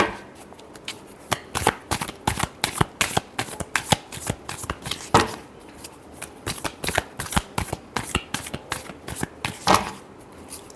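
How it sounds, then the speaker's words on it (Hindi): Tarot cards are shuffled by hand in quick, crisp riffling bursts, close to the mic and repeating steadily for several seconds, with a faint voice now and then. "last shuffle"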